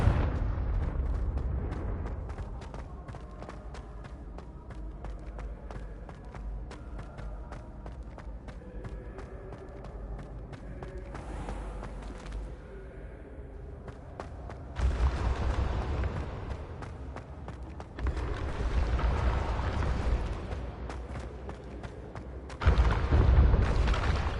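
A Confringo fire spell in the game Hogwarts Legacy erupts in booming blasts that come in several loud surges over a continuous rumbling, crackling background.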